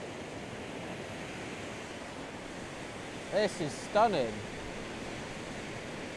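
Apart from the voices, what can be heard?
fast-flowing river rapids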